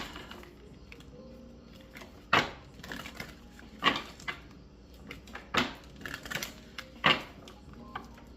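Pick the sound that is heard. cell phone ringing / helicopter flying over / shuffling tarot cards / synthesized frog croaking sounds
shuffling tarot cards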